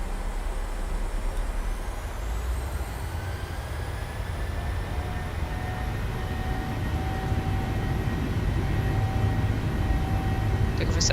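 Airliner engines spooling up for takeoff in Microsoft Flight Simulator 2020, a Norwegian jet departing Oslo: steady loud low rumble with rising whine tones building over several seconds.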